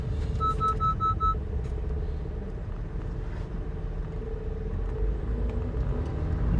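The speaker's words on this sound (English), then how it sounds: "just dealing with this damn traffic here" Road traffic makes a steady low engine rumble that fills the whole stretch, with a brief series of beeps near the start and no talking.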